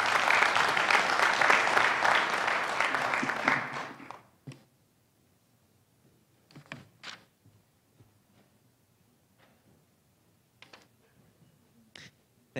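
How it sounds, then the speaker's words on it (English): Audience applause for student and alumni panelists at a student success summit, a dense steady burst for about four seconds that then fades out, leaving near-silence with a few scattered taps and rustles. "if we can please give them a round of applause for coming out today"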